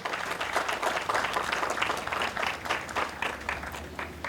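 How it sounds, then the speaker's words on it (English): Sustained applause from a sizable crowd, dense clapping holding steady for a few seconds without voices standing out. "Give a round of applause for Elizabeth."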